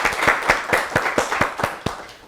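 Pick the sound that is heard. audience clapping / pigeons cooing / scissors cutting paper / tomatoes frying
audience clapping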